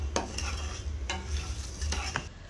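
Mustard seeds, cumin, chana dal and a bay leaf fry in oil in a kadai, producing a soft steady sizzle punctuated by several crisp spatula scrapes against the pan.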